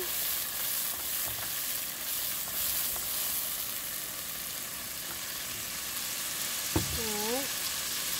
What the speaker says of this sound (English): All right, so my oil is hot. I'm going in with my garlic.